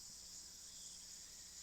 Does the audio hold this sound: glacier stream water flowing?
no